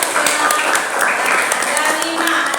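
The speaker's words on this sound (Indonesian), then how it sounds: "Tepuk tangan dong" A small group claps hands in a classroom or meeting, steady scattered applause lasting a couple of seconds, close and fairly loud, with voices murmuring underneath.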